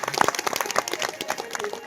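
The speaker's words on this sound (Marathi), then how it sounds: "जोरदार टाळी एकदा त्यांच्याकडे." An audience at a devotional gathering honouring a visiting kirtankar maharaj claps, a brief burst of scattered applause from a modest crowd, fairly close, with a voice faintly underneath.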